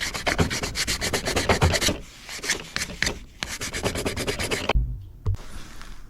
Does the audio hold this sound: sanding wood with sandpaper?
yes